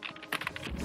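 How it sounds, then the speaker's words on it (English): Quick keystrokes tap on a computer keyboard, a short burst of close, soft clicks in an uneven rhythm. "I'm going to type that"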